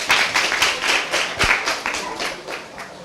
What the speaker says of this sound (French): Je vous prie d'applaudir pour eux.